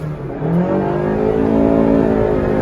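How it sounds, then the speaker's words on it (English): A fourth-generation Honda City facelift's engine revs up hard toward 7,000 RPM and holds a loud, rising roar close by, no talking. "D-space, revving the motor."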